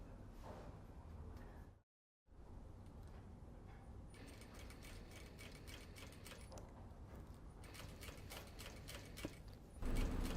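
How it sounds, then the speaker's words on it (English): A sewing machine stitches wool coat facing pieces, a quiet steady mechanical whirr with rapid ticking that drops out briefly near the start, then keeps running close by without talk. "We are stitching the facing details."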